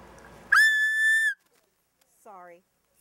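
A police officer's whistle gives one loud, sustained shrill blast of nearly a second, then a short, fainter, wavering tweet follows after a pause.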